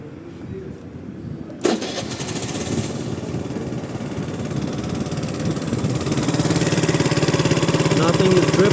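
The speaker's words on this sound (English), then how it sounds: "We're gonna go ahead and start the engine to see if everything is fine." A Suzuki Let's 4 50cc scooter engine cranks and catches suddenly, then settles into a steady, close buzzing idle that grows slightly louder, with a person talking over the engine.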